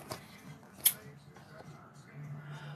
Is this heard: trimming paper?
yes